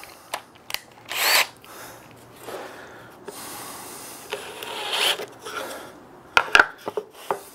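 Power drill boring a half-inch hole into wood for a stingless bee box: short, separate bursts of whirring and grinding that stop and start irregularly, with faint handling knocks in between.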